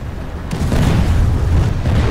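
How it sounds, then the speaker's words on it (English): Explosions in the video game Planetside 2 with tanks on a bridge, a heavy rumbling boom that swells after a brief start and keeps roaring loudly through the whole stretch, with no talk over it. "Oh, the explosions on low settings are so beautiful."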